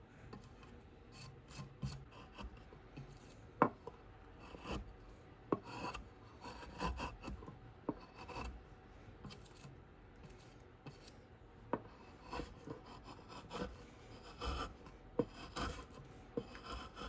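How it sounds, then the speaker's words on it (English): A Flexcut detail knife carving a wood relief of a Ford Mustang produces quiet, steady scraping and rasping strokes with occasional sharper clicks. The sound is close and faint, and no one speaks. "Using my little flex cut detail knife."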